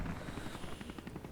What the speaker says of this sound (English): But that's a helicopter. You have to tilt it back to stop it.